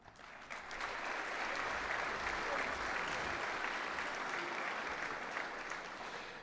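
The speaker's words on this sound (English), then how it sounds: "Please join me in recognizing and applauding the National High School Coaches of the Year for their remarkable achievements" Audience at a track and field coaches convention applauds the National High School Coaches of the Year, a broad sustained round of clapping that swells in and holds, heard from a distance.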